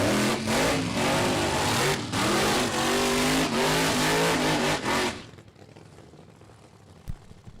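A Keith Black Hemi-powered funny car roars at a Mo-Kan Dragway qualifying session, the engine howling loud and close with rising revs for about five seconds before cutting off abruptly, leaving faint crowd and track ambience.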